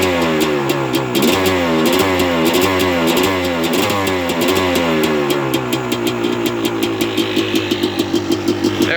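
A Kawasaki KX250 two-stroke dirt bike, freshly rebuilt with a new top end and replated cylinder, runs loud and close, its engine revving up and down in repeated surges before settling into a rapid, popping idle.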